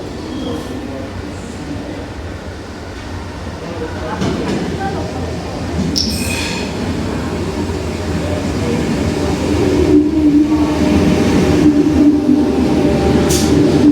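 An old Sydney Tangara train rolls into a platform, a steady rumbling rail roar that grows louder as it nears, with brief squeals and a voice talking over it.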